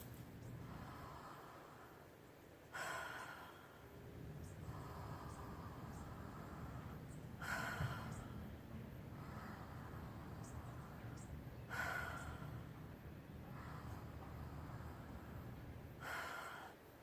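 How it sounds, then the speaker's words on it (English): Full torso breathing shown as a demonstration: four slow, audible breath cycles at steady intervals, each with a breathy, airy rush standing out over a quiet background hiss. "This is what a full torso breath looks like"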